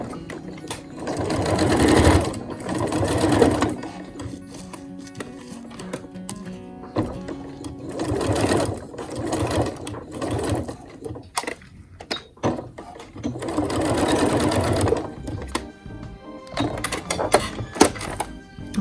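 A sewing machine stitches a seam on a simple skirt, running in several bursts of rapid mechanical whirring with pauses and clicks between, close and fairly loud.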